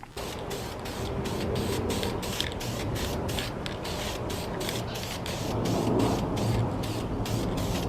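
A sealer primer coat being sprayed, a steady continuous hiss held at near-constant loudness for the whole stretch, with no talking.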